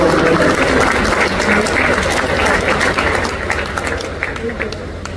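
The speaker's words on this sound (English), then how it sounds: "Please give a big round of applause to Nazar for today" A club meeting audience gives a loud round of applause for an honoree, dense clapping at full strength that gradually thins and softens toward the end, with some crowd murmur underneath.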